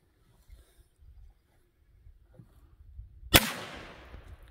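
A single sharp, loud crack from a black powder belt buckle pistol firing outdoors, near the end of a quiet stretch, with a decaying echo trailing after it.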